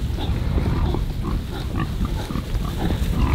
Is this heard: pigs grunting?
yes